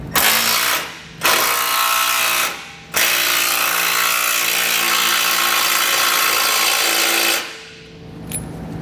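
A power driver or ratchet fitted with a 13mm socket runs a bolt on a trailer hitch receiver being installed on a 2020 Ford F-150, loud and close in three long whirring bursts separated by short pauses.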